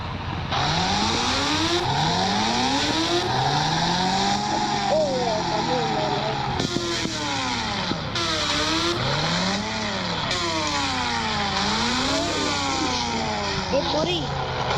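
A motorbike engine arrives and revs loudly, its pitch repeatedly sweeping up and down in rising and falling surges over a constant roar.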